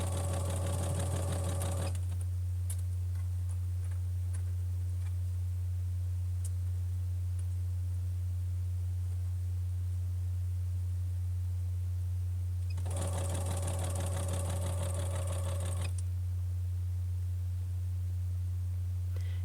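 A sewing machine stitches a t-shirt seam slowly and carefully, in two short runs at the start and near the end with quiet pauses between, all over a steady low electrical hum.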